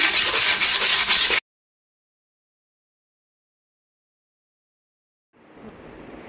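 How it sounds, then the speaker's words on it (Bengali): A clay flower pot is rubbed to scrape off dirt before painting: a loud, rhythmic abrasive scratching for just over a second, then silence, then a fainter rubbing begins near the end. "আমি এখন ঘষে এর গায়ে যে ময়লা টয়লাগুলো থাকে উঠাই নিই"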